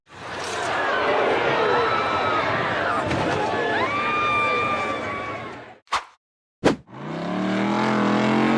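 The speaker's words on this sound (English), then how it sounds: "while trying to push its way up a very tall and steep dune, it lost momentum, rolled backward, the rear kicked up, and the vehicle flipped over" A 4x4 off-road vehicle revving hard up a very tall, steep sand dune before tumbling, its engine whining and rising over crowd noise and cheering. The sound cuts out abruptly near the end with two brief bursts before resuming.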